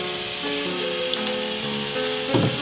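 Pork chops sizzling on a grill, a steady hissing fry with faint pops and a low background hum, moderately quiet and continuous.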